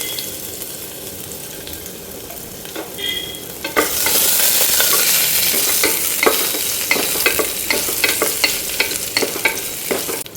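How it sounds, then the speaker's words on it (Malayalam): Crushed ginger and garlic hit hot coconut oil with a sudden loud sizzle that keeps crackling steadily, with stirring scrapes and taps in the pan; quieter kitchen sounds come before. "വെളിച്ചെണ്ണ ഒന്ന് ചൂടാകുമ്പോൾ അതിലേക്ക് ചതച്ച് വെച്ചിരിക്കുന്ന ഇഞ്ചി വെളുത്തുള്ളി ഇട്ട് കൊടുക്കാം."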